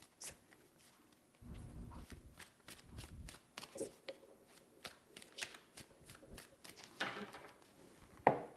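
Tarot cards shuffled in several rapid bursts, crisp riffling and soft slapping flutters, close and moderately loud with short pauses between.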